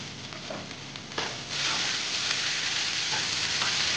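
Spiced singara filling stirred in a frying pan for puli pitha: a steady loud sizzle with faint scraping, rising in intensity after a soft start.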